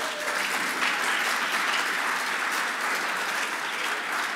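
Audience at an energy conference applauding, a dense, even wash of clapping that stays loud and steady from start to end.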